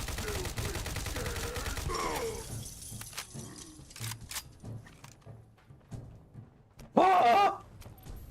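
Gunfire rings out in the video game Fallout 4: a dense rapid burst of shots for about two seconds, then scattered sharper cracks and one loud blast near the end. A voice briefly exclaims.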